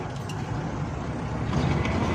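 Car engine running steadily while the vehicle creeps along in reverse gear, a constant low rumble with broadband road and traffic noise, close and fairly loud, with no talk over it.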